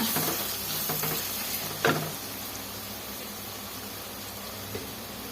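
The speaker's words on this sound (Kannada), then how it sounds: "ಎಲ್ಲ ಚೆನ್ನಾಗಿ ಫ್ರೈ ಮಾಡ್ಕೊಳ್ಳೋಣ ಈ ಥರ" Capsicum rice mixture with turmeric and sambar powder fries in a pan, giving a moderate steady sizzle with a couple of brief spoon scrapes or knocks.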